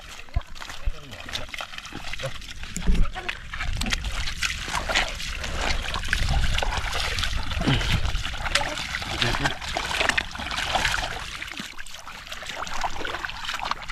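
Water rushes and trickles continuously over rocks after heavy overnight rain, with splashy bursts, loud and close, while a person talks over it at times.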